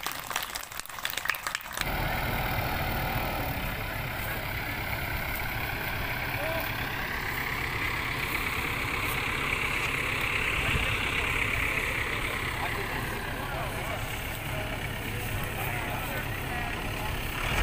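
A modern rice harvesting machine runs with its engine at a steady, loud rumbling idle after a brief noisy start, holding an even drone throughout, with people talking faintly in the background.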